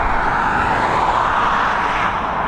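An airliner climbing out after takeoff from runway 10R at Dublin Airport, its engines producing a loud, steady broadband roar that holds evenly throughout without any voices.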